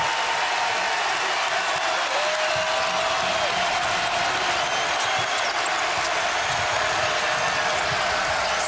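A college basketball arena crowd at a Marquette versus Kansas State game cheers and applauds in a dense, steady roar that fills the whole stretch, loud and continuous with no break.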